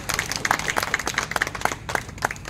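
Theatre audience applauding inside an air-conditioned hall after a play, dense rapid clapping from many hands, close and steady throughout.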